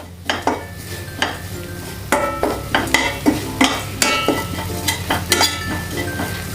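Prawn-fry masala with Kashmiri chilli sizzles in a pan while a spoon knocks and scrapes the metal in a quick irregular rhythm, loud and close under steady frying.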